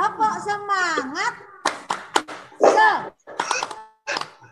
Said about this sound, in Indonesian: Tepuk semangat dulu yuk.